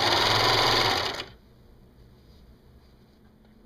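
Sewing machine stitching ribbing onto a cotton jersey T-shirt, a fast, even mechanical chatter running close and loud for just over a second before stopping, leaving a faint hum.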